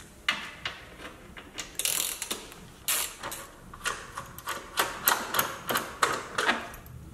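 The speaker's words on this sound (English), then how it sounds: "I will start the whole procedure removing these two bolts. And the tool is Torx T30." Ratchet clicks from a Torx T30 socket while bumper cover bolts are removed on a Mini Cooper, close rapid bursts of sharp mechanical clicking repeated in short strokes throughout, with no talking.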